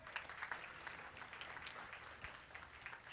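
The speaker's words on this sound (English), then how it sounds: "Give her a round of applause" Audience applause at a summer hires summit, steady clapping from a crowd filling the room for about three seconds, fairly even throughout with no talk over it.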